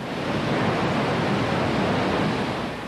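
A waterfall roars after torrential rains near Lake Pulaski, a steady, dense wash of rushing water that stays even and loud throughout, with no voices.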